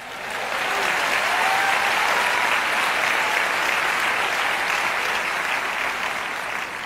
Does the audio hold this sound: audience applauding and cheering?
yes